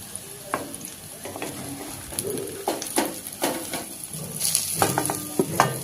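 Stuffed bitter gourds (bharwa karela) fry in a pan with a soft steady sizzle, broken by irregular scraping and stirring clacks as the pieces are turned, close by with no talking.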